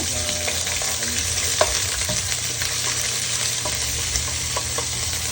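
Tomato paste sizzles steadily in oil for pork rib caldereta, with a spoon stirring and scraping now and then in short clinks over the continuous frying hiss, close and moderately loud, no talking.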